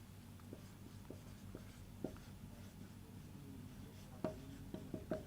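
Numbers are written by hand as faint, quiet scratching with a few light taps and short strokes, sparse at first and clustering toward the end, with no voice.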